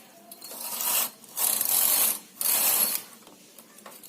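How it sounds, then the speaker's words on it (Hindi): A knitting machine carriage slides across the needle bed in two long mechanical rasping passes with a ratcheting clatter, close and fairly loud, separated by brief pauses with no talk. "अब एक सिलाई लगाऊंगी।"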